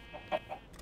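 Chicken clucking from the Minecraft video game, a few soft, short clucks spaced apart in quick succession, faint and somewhat distant, with no talking.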